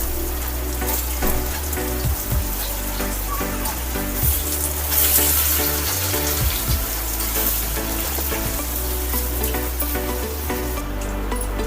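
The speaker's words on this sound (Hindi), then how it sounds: "जब पकौड़े एक साइड से फ्राई हो जाएं तो दूसरी साइड इसे पलट दीजिए।" Arbi leaf patra pakoras fry in hot oil over a medium flame, a steady loud sizzle and bubbling close by with faint clinks and scraping from turning them. No one speaks.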